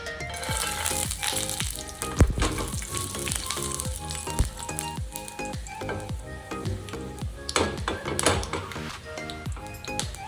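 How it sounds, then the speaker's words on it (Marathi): Peanuts roast in two spoons of hot oil in a pan, giving a close, busy crackling sizzle full of rapid rattling pops and clatter from stirring that runs the whole time. "इथे मी घेतलेले आहे 2 चमचे तेल, यामध्ये आपण शेंगदाणे भाजून घेणार आहोत."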